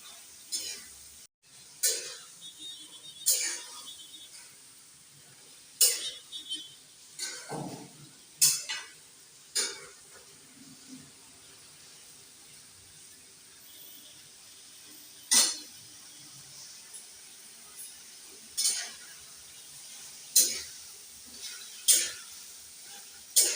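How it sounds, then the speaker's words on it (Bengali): Chicken being stirred and sautéed in a pan for a chicken noodle dish, with scattered clinks and scrapes of a utensil against the pan over a low sizzle, steady and fairly close, with no talking. "এবার আমরা চিকেনটাকে একটু কষিয়ে নেব।"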